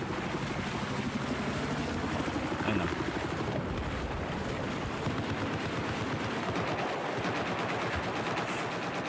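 A helicopter and machine gun fire in Battlefield 4 form a dense, continuous roar of rapid shots and rotor noise, loud and steady, with battlefield din throughout.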